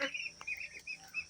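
Faint, scattered quacks and calls from ducks settling into their pen at dusk after bathing and feeding, heard softly at a distance.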